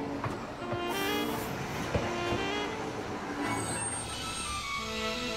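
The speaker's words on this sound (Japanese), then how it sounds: "路面電車？" An anime tram rolls past on a wide campus, a steady rumbling drone with rail clatter and a brief high tone near the end, moderately loud with no talking.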